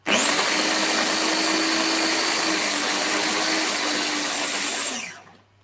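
A food mixer grinds hazelnuts into a chocolate spread paste with a loud, steady motor whine and churning hum, running continuously for about five seconds before cutting off abruptly.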